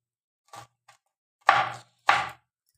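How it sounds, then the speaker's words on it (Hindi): Knife chopping green chillies finely on a board: two faint taps, then two louder, sharper chops close by, with no talking. "दो हरी मिर्च लिए, इनको भी बारीक बारीक काट लेते हैं।"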